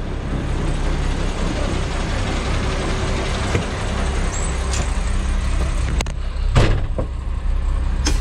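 A heavy tow truck engine rumbles steadily up close as the vehicle creeps forward, with a few clanks and a hiss of air brakes near the end.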